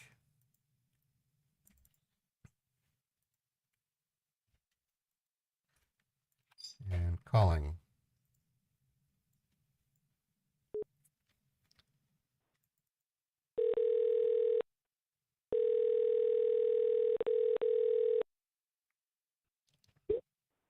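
Telephone call tones sound as a call is placed to a scammer: a few clicks and a handling burst, then a short steady tone followed by a longer ringing tone, fairly loud against near silence.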